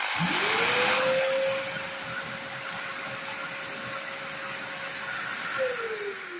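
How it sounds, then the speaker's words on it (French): A Vacmaster 1500 W 30 L stainless-steel wet/dry shop vacuum motor spins up automatically with a rising whine as a connected drill is switched on, settles into a steady loud drone, then begins winding down near the end. "Vous appuyez sur l'interrupteur de la perceuse et l'aspirateur se met automatiquement en route."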